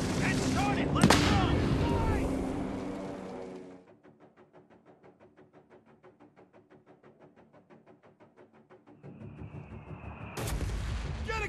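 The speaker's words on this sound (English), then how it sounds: "Strafe that target" Aircraft strafing gunfire in the Company of Heroes 3 Italy campaign: dense, loud battle noise with a sharp burst early on, then a long stretch of faint, rapid, rhythmic fire before heavier noise swells back in.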